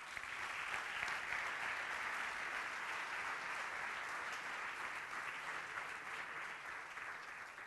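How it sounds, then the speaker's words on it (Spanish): Steady, dense applause from an audience at a youth creators' awards ceremony held by a regional youth institute in Aragón, welcoming a guest; the clapping stays even and full for several seconds with no talking over it. "un aplauso para él."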